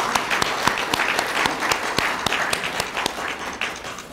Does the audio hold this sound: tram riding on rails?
no